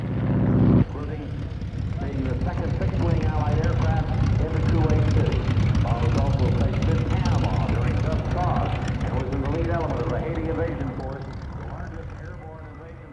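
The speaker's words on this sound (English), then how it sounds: "this rugged old biplane of the 1920s, the Boeing PT-17 Stearman Cadet" A 1920s Boeing PT-17 Stearman Cadet biplane flies at an air show, its propeller engine droning steadily and loudly while an announcer talks over it, then slowly fading.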